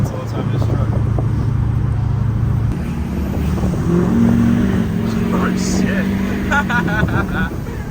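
A high-mileage Duramax diesel dually pickup rumbles at a loud idle, then rises in pitch as it's revved at light throttle, engine tone climbing and holding, with people talking over it.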